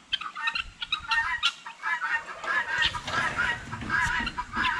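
A flock of broiler guinea fowl calls noisily, overlapping harsh, repeated cries and cackles from several birds at close range, continuous throughout.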